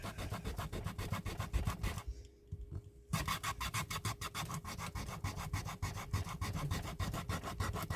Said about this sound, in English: Oh yeah, you could sand it off